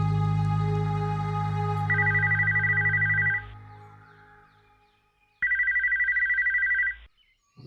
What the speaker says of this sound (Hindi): इस घर में तो कोई फोन उठाने वाला भी नहीं है।